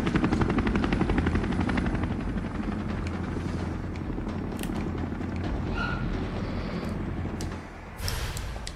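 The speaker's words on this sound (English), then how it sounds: "There's a helicopter waiting to take you to safety." Helicopter in the video game Resident Evil 3: a loud, continuous rotor drone with steady thumping chop fills the whole stretch, dipping briefly near the end before returning.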